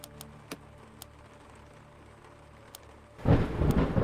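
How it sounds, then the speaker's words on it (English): Rain patters steadily on the windows of a mansion, with a few sharp drips ticking over a quiet hiss, then a loud rumble of thunder rolls in and swells toward the end. "we listen to the rain pitter-patter on the windows"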